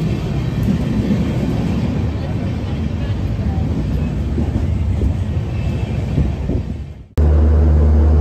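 A passenger train on the Konkan Railway rumbles steadily with broad low-frequency noise, then the sound cuts abruptly to a different steady hum near the end.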